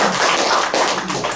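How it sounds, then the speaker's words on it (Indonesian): A church congregation claps during a service, close and loud with a brisk, dense patter of hands that briefly dips and resumes. "Beri tepuk tangan untuk Tuhan Yesus."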